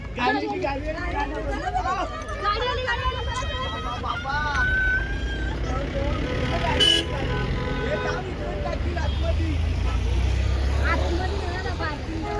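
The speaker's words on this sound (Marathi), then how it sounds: "आमची गाडी आली फायनली," A bus or car pulls up on a Mahabaleshwar trip, its low engine rumble rising near the end beneath continuous chatter and nearby talking, with a brief horn-like toot midway.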